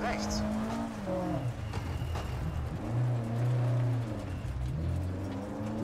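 Rally car engine in the WRC racing video game, revving and accelerating with shifting pitch as gears change, loud and continuous throughout, with a voice talking over it.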